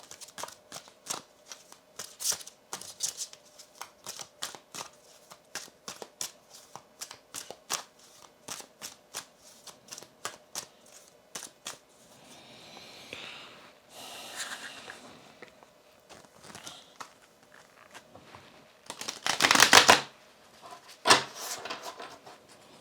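Tarot cards are shuffled by hand in a run of quick, crisp riffles and soft slaps, close and fairly quiet, followed by a few louder flurries near the end.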